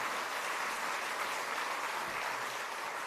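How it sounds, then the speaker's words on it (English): An audience at the SemiconIndia 2022 inauguration breaks into a sustained round of applause, a continuous wash of many hands clapping, heard from a distance and fairly soft. "Let's all once again give a huge round of applause so that the clappings reaches him."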